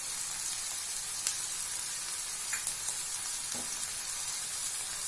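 Curry leaves sizzling in hot oil in a pan, a steady, faint crackling hiss with a few small pops, no voices.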